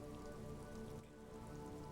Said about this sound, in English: All around you, rain falls on the great city of Revachol.